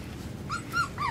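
Four-week-old puppies let out three short, high whimpers in quick succession, close by over a quiet background.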